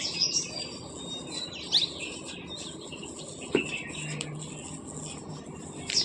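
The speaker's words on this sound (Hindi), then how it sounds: "चिड़िया आ गई, चिड़िया चिड़िया आ रही" Small bird chirping with brief high tweets and short calls scattered across a few seconds, close and light over a faint insect-like background, with people talking nearby.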